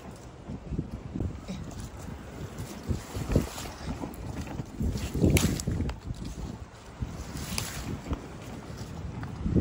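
Steady storm wind roaring and gusting across the microphone in a Northern California fruit garden, with rumbling low buffeting throughout and a few stronger gusts, no talk.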